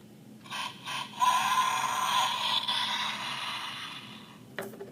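A Power Rangers Super Samurai Bullzooka toy blaster has its trigger pulled with no disc loaded, setting off a sustained, buzzy electronic sound effect that plays steadily for about four seconds before cutting off, with a small click at the end.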